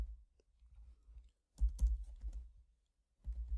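Keys clicking on a computer keyboard while code is written in an ArcGIS Online Arcade expression editor, a few sparse taps early on, then a busier flurry of keystrokes and a final short burst, close and fairly quiet.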